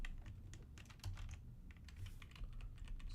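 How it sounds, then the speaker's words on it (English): Quick, light keystrokes clatter on a computer keyboard in irregular bursts, close but quiet, with no voices. "let's just type in"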